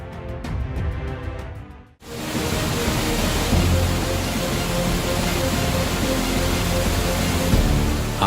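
Muddy flash-flood torrent full of natural debris rushes past eroded banks, a loud continuous broadband roar after a short quieter opening with faint tapping, steady and close.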